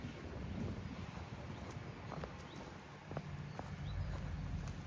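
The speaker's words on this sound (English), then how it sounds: "Bit of a windy one" Steady low wind rumble buffets the microphone outdoors on a farm track by fields, with faint scattered clicks and a distant bird-like chirp.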